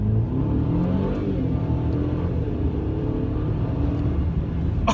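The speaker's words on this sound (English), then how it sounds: "we're just gonna pull onto this road here and do a little acceleration test" Close inside a 2018 Mercedes C300 with a four-cylinder engine, it revs and pulls hard from a standstill, the engine note climbing steadily over a few seconds with a continuous road and tire rush.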